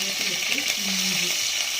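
Curry leaves and ginger sizzle in a dry pan with popped mustard seeds and no oil, a steady crackling fry with faint scraping underneath.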